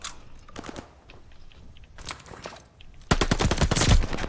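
Call of Duty Vanguard multiplayer gunfire comes in short rapid automatic bursts with quiet gaps between them, then a long, loud, close burst of shots closes the sequence.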